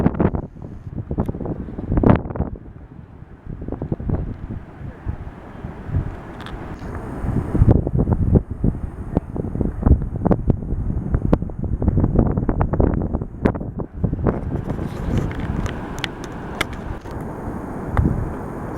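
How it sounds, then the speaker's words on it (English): Gusty wind buffets the microphone on Yosemite's North Rim near the falls, coming in loud irregular blasts and rumbles that rise and fall throughout, with no talking. "So the wind's shifting"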